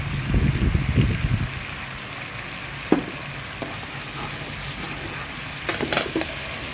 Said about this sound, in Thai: แล้วเราก็เติมน้ำเคี่ยวไปนิดๆนะคะ